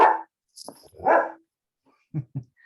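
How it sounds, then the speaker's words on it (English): Dogs bark in a short outdoor burst, a few loud separate barks up front followed by two quicker, lower yaps near the end, with no talking. "Dogs are starting to bark now."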